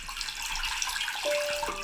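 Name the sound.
recording of water drops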